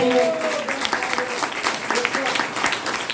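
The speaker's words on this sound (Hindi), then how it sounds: "गैनोडर्मा के लिए फिर से जोरदार ताली होनी चाहिए।" A crowd at a health training program claps in a dense, sustained round of applause, loud and close, with a voice briefly heard at the start.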